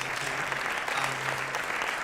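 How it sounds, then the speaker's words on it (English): A round of applause at a business conference, the Kings Summit, for the BBC camera crew: a dense, steady wash of crowd clapping that holds evenly for a couple of seconds. "So a round of applause for you guys."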